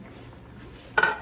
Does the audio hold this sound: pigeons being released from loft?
no